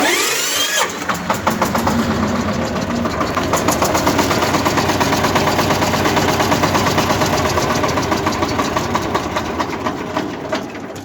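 A Chinese Shifeng tractor engine cranks and fires after winter storage in a garage, then settles into a steady, loud diesel idle with a rapid rhythmic clatter, heard close with no talk.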